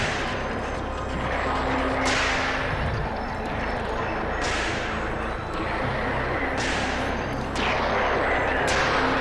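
Single missile launcher fire on a spaceship in the game BossConstructor, a few sharp launch bursts spaced a couple of seconds apart over a dense, continuous roar of engines and explosions.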